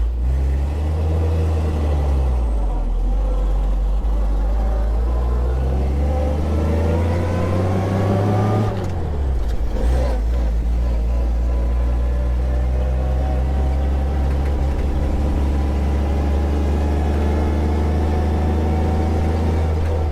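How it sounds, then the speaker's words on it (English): An old 1934 Dodge truck engine drones loudly and continuously nearby, revving up, dropping pitch as gears shift, then pulling steadily again. "Brakes are working good. Truck shifting."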